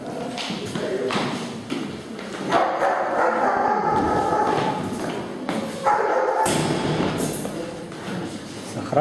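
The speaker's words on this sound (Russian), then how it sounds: "Охраняли собачки." Guard dogs outside a library bark and yip in a loose, busy burst, close and fairly loud, with thumps and a faint voice mixed in.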